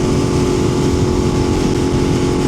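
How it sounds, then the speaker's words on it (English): A 2025 BMW S1000RR motorcycle's exhaust, a loud, steady droning engine note with a rough low rumble, close and continuous with no talk. "the sound that comes out of this tailpipe, oh my God, I love it"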